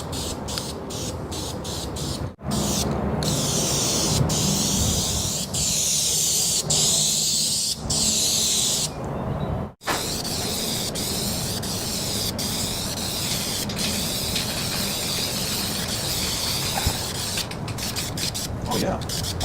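Aerosol spraying of a sticky protective coating onto a 1948 Chevy during a restoration, long loud continuous hisses broken by brief pauses, close to the can, with voices talking at times.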